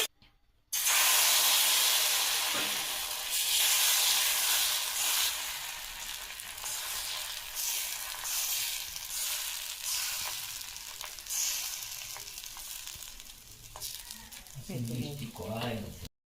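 Pitha with a coconut filling fries in hot oil in a pan, a loud, steady sizzle and hiss that starts abruptly and then settles slightly lower, with a voice briefly heard near the end.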